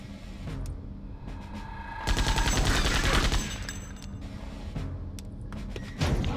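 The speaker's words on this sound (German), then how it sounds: "schießt nur mit einem Arm" A one-armed gun attack in the Septerra Core video game fires in rapid bursts that build to a loud, dense volley in the middle, then drop back to scattered shots.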